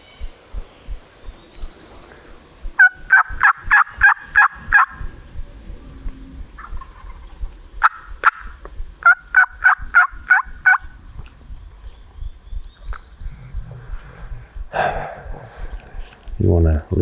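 A wild turkey gobbles in several rapid rattling bursts, moderately distant and slightly dampened by foliage, with footsteps or rustling and occasional low voices around it during a hunt.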